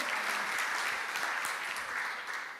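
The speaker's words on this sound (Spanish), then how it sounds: "Dale ese aplauso al Señor." A church congregation claps during a Spanish-language sermon, a dense, continuous wash of applause from a large room, steady and somewhat distant.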